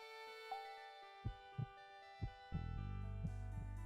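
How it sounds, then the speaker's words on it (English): A virtual-world heartbeat effect with fallback audio thumps in slow, evenly spaced beats over a soft tonal background, quiet and distinct, with a louder rumble joining near the end. "The heartbeat will lower in volume as people get away from it."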